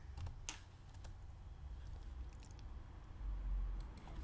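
Keys on a computer keyboard tapped at a moderate pace while entering spreadsheet data, quiet and fairly close, with sparse, light clicks over a low background hum and no talking.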